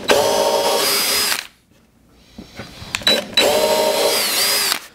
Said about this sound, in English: But I'm gonna pre-drill the board, that way I can see on the back side where to put the screws.